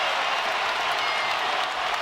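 Crowd at a college basketball game between Tennessee and Alabama roaring and applauding in a steady, dense wash of noise that fills the arena without a break as the score is tied late.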